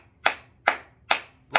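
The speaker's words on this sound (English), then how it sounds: "You know why I'm clapping for you, Herb?" One person claps four times at an even, unhurried pace, each sharp clap close and distinct, with quiet gaps and no voices between them.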